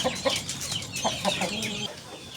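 Dong Tao chickens clucking nearby, several short rhythmic clucks in quick succession with soft farmyard background.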